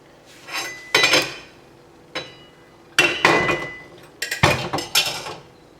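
Milk with lactobacillus starter culture is stirred in a metal pot for home cheesemaking, giving several loud separate bursts of clattering, scraping utensil strokes with short pauses between them, close up.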